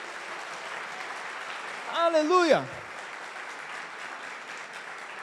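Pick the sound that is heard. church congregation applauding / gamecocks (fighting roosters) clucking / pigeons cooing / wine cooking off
church congregation applauding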